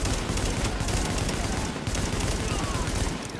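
Dense, continuous automatic gunfire roars in Tom Clancy's The Division, a loud unbroken barrage filling the whole moment, with a voice faintly under the shots.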